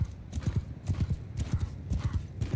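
A horse gallops in the Mount & Blade Bannerlord video game, with rapid rhythmic hoofbeats close and prominent and breathy panting between them, and no music behind.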